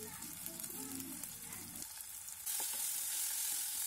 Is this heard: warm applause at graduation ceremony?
no